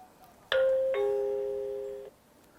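A Tuya J5 2K wired smart doorbell sets off its wireless chime receiver, giving a clear two-tone ding-dong: one bright strike, then a second lower tone that rings out for about a second before stopping.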